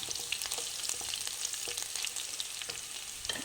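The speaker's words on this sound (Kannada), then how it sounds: "ಮತ್ತು ಬೆಳ್ಳುಳ್ಳಿ, ರೆಡ್ ಚಿಲ್ಲಿ ಸ್ವಲ್ಪ ಫ್ರೈ ಮಾಡೋಣ." Garlic and red chili frying in a pan of hot oil, a steady dense sizzle with light stirring crackles throughout, close and continuous with no voices.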